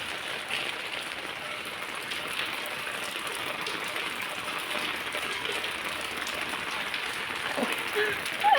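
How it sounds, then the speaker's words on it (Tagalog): Rain falls steadily in a soft, even hiss of drops pattering on surfaces, continuous and moderately close, with a faint rustle near the end. "Oh, ulan, oh."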